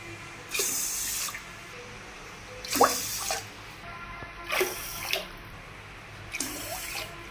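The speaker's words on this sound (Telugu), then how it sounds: "ఐదు గ్లాసులు నీళ్లు పోసుకుంటున్నాను" Water is poured by the glass into a rice pot in four separate bursts, each a short splashing gush, with quiet pauses between them.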